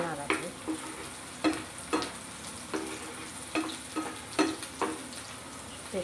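Bitter gourd fry being stirred in a pan with turmeric powder, spoon scrapes landing every second or so over a steady sizzle, close and fairly quiet, no talking.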